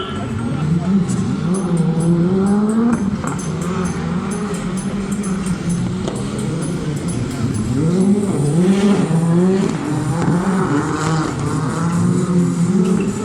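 A rally car at the Rally de Wallonie revs hard near the stage start, its engine rising and falling in sweeping bursts over steady crowd and track noise, with a commentator talking throughout.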